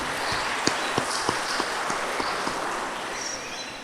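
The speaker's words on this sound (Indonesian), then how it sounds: "Mari kita beri tepuk tangan buat panitia." A church congregation at an Easter dawn service applauds the organizing committee. A broad wash of clapping carries a few sharper, evenly spaced claps that fade out toward the end.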